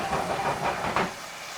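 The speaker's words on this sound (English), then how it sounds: "So we're gonna fry off a little garlic." Garlic frying in a pan for a shrimp sauce: a close, steady sizzling hiss with faint crackles, fading a little toward the end.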